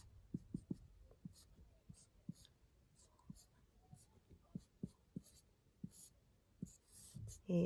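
A pen or marker scratches and taps across a board while a nylon 6 molecule is drawn, making a quiet, irregular series of short strokes and clicks close by, with faint breathing.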